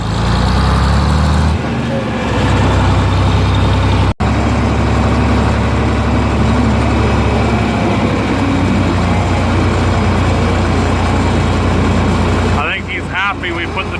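A John Deere 4440 tractor fitted with duals runs for hay baling, its engine a loud, constant close drone with heavy low rumble that barely changes throughout, with a brief shift in tone near the end.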